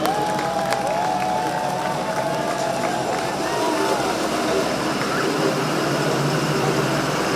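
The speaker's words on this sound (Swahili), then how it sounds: "Makofi kwa rais tena." A crowd applauds and cheers the president at a truck flag-off event in Murang'a, Kenya. The applause is a steady, dense wash that runs under outdoor noise throughout.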